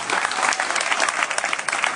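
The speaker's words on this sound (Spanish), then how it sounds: "Un aplauso fuerte para ellos." Audience at a big band concert applauding graduates, dense loud clapping sustained evenly for the whole stretch.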